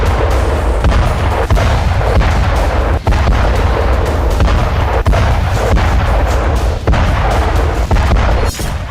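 Heavy bomb blasts from the Gaza war, a continuous roar of deep booming explosions and artillery-like thuds with repeated sharp impacts, loud and dense throughout with no talking.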